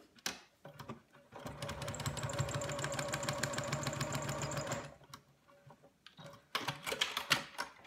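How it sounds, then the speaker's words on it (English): A sewing machine runs steadily for several seconds stitching a quilt's background triangle, a rapid even mechanical rattle, then stops and starts again briefly near the end. "we're going to be sewing a background triangle next"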